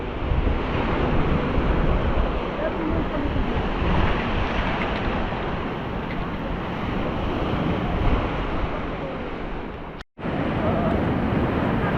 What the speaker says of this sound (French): Et la mer là est un peu, un petit peu agitée. Vu que le vent s'est levé